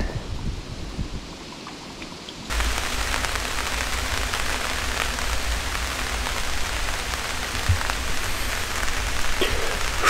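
Hail pelts down outdoors by a lake on a cold day, a dense, continuous, loud patter and hiss that swells suddenly after a quieter opening and then holds steady.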